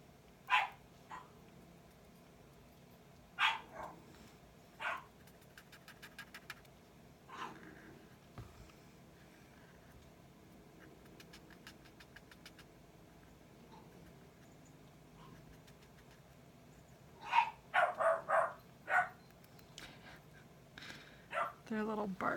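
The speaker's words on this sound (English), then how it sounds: "Their little barks are so cute." Several small dogs bark in short, sharp yips scattered through a quiet indoor scene, with a dense cluster of rapid barks near the end and some soft panting and whimpering in between.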